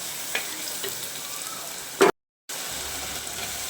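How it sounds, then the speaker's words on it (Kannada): Onions and chopped coriander frying on a low flame in a pan for fish curry, a soft steady sizzle with a brief stir clatter before the sound cuts out for a moment and resumes. "ಅಷ್ಟೇ ತನಕ ಸ್ವಲ್ಪ ಸ್ಲಿಮ್ಮಲ್ಲಿಟ್ಟು ಫ್ರೈ ಮಾಡ್ಕೊಳ್ಳೋಣ"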